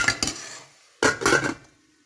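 Two clattering bursts of a metal lid set over a pan of frying onions and tomatoes, a short clank then a louder, longer rattle about a second later, close by with quiet between.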